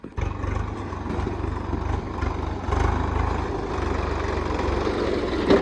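Tractor engine running steadily in a field of green crop, a continuous low rumbling drone with slight rises in load, no voices.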